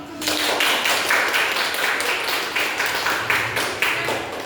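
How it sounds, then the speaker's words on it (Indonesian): A class of students claps steadily for several seconds in a classroom, a dense patter of hands at close range with faint voices underneath. "Tepuk tangan dong."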